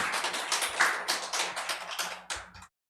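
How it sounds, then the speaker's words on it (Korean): Members of a Korean church congregation clap to celebrate birthdays, with crisp, close individual claps from a modest group blending into a lively patter that stops abruptly. "우리 박수로 한번 축하해 주십시오."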